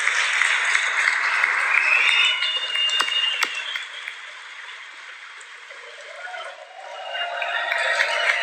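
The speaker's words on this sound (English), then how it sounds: "The applause is so dramatic." Sustained audience applause fills a large hall, dense and steady like rain, fading somewhat midway before swelling again toward the end.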